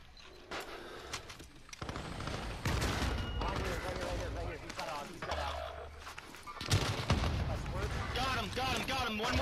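Gunfire in a multiplayer shooter video game: bursts of shots and heavy firing crackle continuously at close and mid range, with voices talking over much of it.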